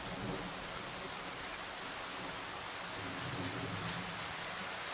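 Heavy rain pours steadily in the medieval video game The Pillars of the Earth, a dense, even wash of falling water with no voices over it.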